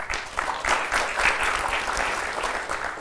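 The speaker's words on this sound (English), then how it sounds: "lots of great clapping" An audience claps at a talk, a dense burst of applause from many hands that stays fairly even throughout, heard from within the room with no voices over it.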